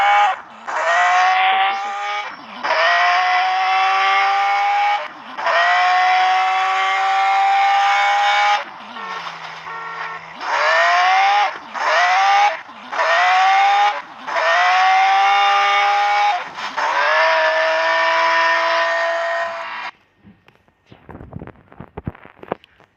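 Racing video game car engine revving loudly in repeated bursts with gear-change dips and tire squeal, nitro boosts rising in pitch, then cutting off abruptly as the car blows up, leaving faint scattered noise.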